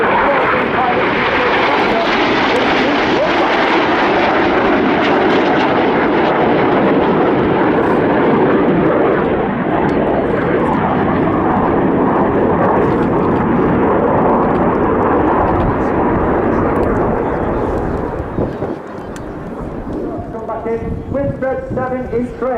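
Red Arrows jet aircraft perform a flying display at RIAT 2022, a loud, sustained roaring rush of engine noise that swells and slowly fades, heard from the crowd with a commentator's voice beneath.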